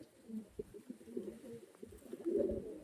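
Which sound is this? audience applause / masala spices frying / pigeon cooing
pigeon cooing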